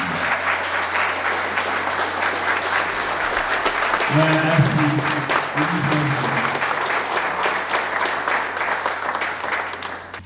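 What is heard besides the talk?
audience applause at a gala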